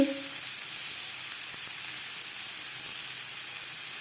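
Potatoes fry in hot oil for Kashmiri aloo dum, a steady loud sizzle and hiss that holds evenly throughout with no talk.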